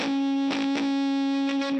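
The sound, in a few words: guitar harmonic through ProCo RAT distortion pedal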